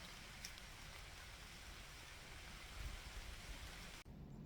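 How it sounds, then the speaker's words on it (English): Rain patters at a wild camp on an upland hillside, a soft, faint and even wash of drops that cuts off abruptly near the end. "just listening to the rain."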